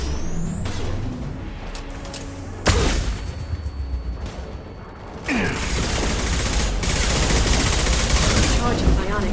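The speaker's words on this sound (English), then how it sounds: "Watch out, flashbang!" Combat in the Mass Effect 2 video game: loud bursts of gunfire and sharp impacts with mechanical clatter and a sweeping tone, a flashbang crack splitting the scene, then sustained dense shooting to the end.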